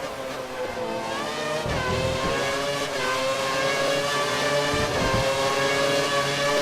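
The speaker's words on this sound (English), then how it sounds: "just barely hitting the limiter" A Sauber Formula 1 car in the F1 2013 video game at the Spain race, its engine screaming at high revs near the limiter, steady and loud with brief dips during gear changes.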